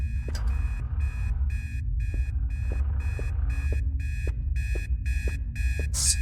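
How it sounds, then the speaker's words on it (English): An alarm clock beeps in steady, evenly spaced pulses throughout, loud and close, inside the ghost-hunting video game Obsideo, with low game ambience and faint thuds underneath. "Stupid alarm clock."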